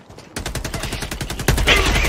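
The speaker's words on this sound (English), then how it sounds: "Stop fucking shooting me!" Rapid automatic gunfire from teammates in Helldivers 2 rattles close and loud after a short quiet start, a continuous burst of dense shots that swells even heavier midway.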